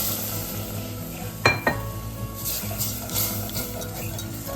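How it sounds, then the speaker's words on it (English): Whole milk being whisked into a pot of broccoli cheddar potato soup; a low simmering hiss with a couple of sharp clinks of the whisk against the pot, then soft continued stirring. "I'm gonna add a little bit in and whisk that."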